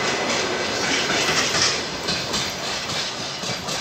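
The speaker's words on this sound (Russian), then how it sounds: "А это прибывает поезд Челябинск-Санкт-Петербург." A passenger train on the Chelyabinsk–Saint Petersburg route arrives at a station with a wooden platform, giving a loud, continuous rolling rumble of wheels and cars passing close by.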